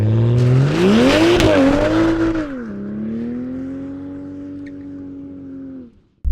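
Rear wheels of a 2020 Toyota Supra spinning on a hard launch, a loud rising engine roar with whining tire spin that peaks, drops and settles into a steady drone before cutting off.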